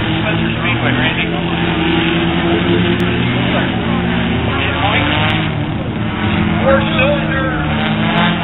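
Four-cylinder race cars of the Scorpion division roll around Spencer Speedway in a continuous, loud engine drone with shifting pitch, while a commentator talks over the noise.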